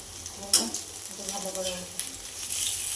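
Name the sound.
frying in hot oil until crispy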